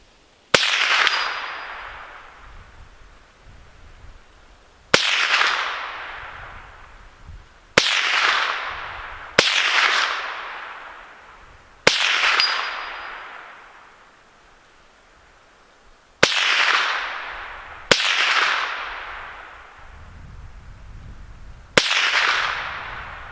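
Eight sharp .22LR rifle shots from a CMMG conversion fired at steel plates, including a 4-inch plate, each a crisp crack with a decaying ring, spaced a few seconds apart, loud and close, no talk.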